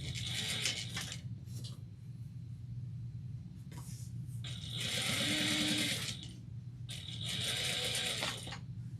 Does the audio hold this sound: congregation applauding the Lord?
no